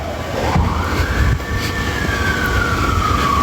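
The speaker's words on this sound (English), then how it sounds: "because I hear fire trucks." Fire truck sirens wail at a distance along a street during a police situation in California, with a rising and sustained tone over low traffic rumble.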